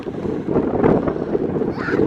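Steady wind buffeting the microphone, a continuous rumbling roar with gusty swells, fairly loud and close throughout.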